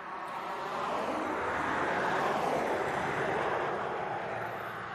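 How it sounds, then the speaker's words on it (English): An airplane on final approach to East Midlands Airport gives a broad, steady roar that swells gently and holds through the middle before easing slightly, heard alone from a moderate distance. "I've got a plane on final"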